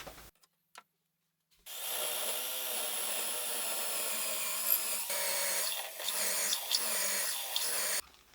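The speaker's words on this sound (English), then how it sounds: "as you drill down, this will give you an indication of where you need to stop drilling" Power drill boring holes into a wooden floating shelf, a steady close whirring grind lasting several seconds after a few short taps, then stopping abruptly.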